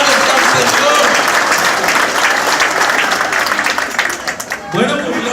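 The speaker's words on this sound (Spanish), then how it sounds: "un aplauso a los hermanos que se animaron a venir" A church group at a Catholic charismatic evangelization gathering claps loudly in a dense burst of applause, voices mixed in, fading briefly near the end before a voice rises.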